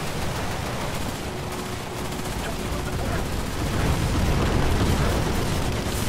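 A torpedo strikes a ship during a naval battle in the War Thunder video game, bringing a dense, continuous rumble of gunfire and explosion noise that swells louder in the second half.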